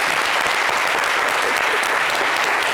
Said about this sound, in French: donc applaudissez pour M. Ange Guéhi.